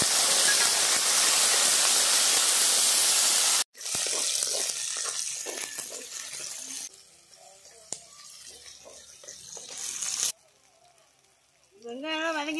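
Onions hit a hot pan with fenugreek, cinnamon and chillies in a village kitchen, giving a loud, bright sizzle that then settles into a quieter frying crackle while someone talks over it.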